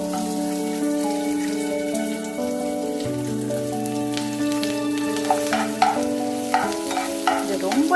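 Onion frying in a pan for a tangy eggplant dish, a soft continuous sizzle and light stirring heard beneath steady background music.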